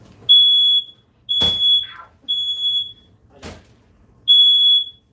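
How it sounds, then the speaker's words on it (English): A household smoke alarm, triggered by steam from a kitchen oven, sounds four or five loud piercing beeps in an uneven rhythm, with brief clattering kitchen noises between them. "We just have a very sensitive alarm that when the steam comes out of the oven, the alarm goes off."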